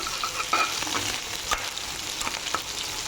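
About 150 grams of capsicum cut into large pieces, sautéing in a hot pan: a continuous close sizzle with a few sharp stirring clicks and scrapes, no voices.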